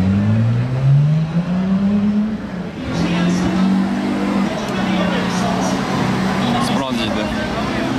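A Ferrari 296 sports car with Novitec wheels and a Brabus exhaust idles and revs at night during the Monaco F1 Grand Prix, a low engine drone with a rising tone, while someone talks over it and crowd noise fills the background.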